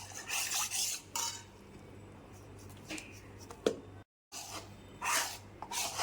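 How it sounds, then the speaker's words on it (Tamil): A spoon scrapes and stirs roasted powder into palm jaggery water in a metal pot, giving repeated soft rasping strokes with occasional clinks and one brief gap. "அந்த பவுடரை கொஞ்சம் கொஞ்சமாக ஆட் பண்ணி நல்லா கிளறி விட்டுப்போம்"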